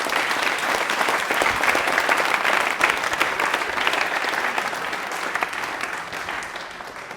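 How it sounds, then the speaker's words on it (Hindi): Studio audience applauds a quiz contestant, Sumit Sharma, on a televised Rajasthan question-and-answer show, a steady dense clapping that stays loud throughout before tapering slightly at the end. "सुमित के लिए प्लीज तालियां हो जाए"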